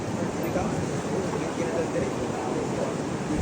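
Large ocean waves surging at Siargao, a constant loud wash of surf blended with wind rumble against the microphone.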